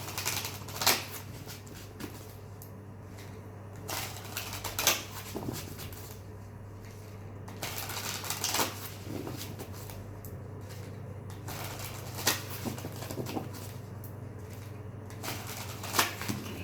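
Tarot cards are shuffled in quiet, soft bursts of riffling and pattering, close and faint, repeating at irregular intervals over a low steady hum.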